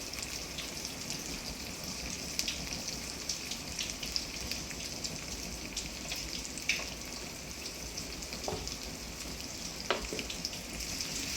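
Onions fry in a pan of oil for an egg gravy, a faint, continuous crackling sizzle dotted with small pops, heard quietly and alone.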